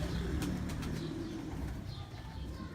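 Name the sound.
pigeons cooing on a rooftop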